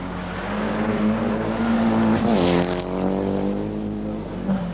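A four-wheel drive Mitsubishi Galant rally car on a 1991 rally stage, its engine droning steadily, then shifting pitch and climbing as it accelerates, heard fairly close with no talk.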